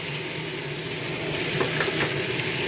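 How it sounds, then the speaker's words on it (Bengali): Prawns and broccoli tossed into fried spices in a hot pan give a steady, close sizzle, with stirring scrapes and crackles growing livelier toward the end. "এবার ব্রকলি আর চিংড়ি মাছগুলো এই ভাজা মশলার সাথে দিয়ে দেবো"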